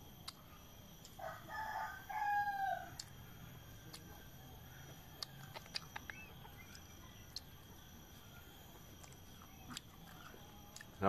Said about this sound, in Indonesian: Kebetulan ada ayam banyak sih.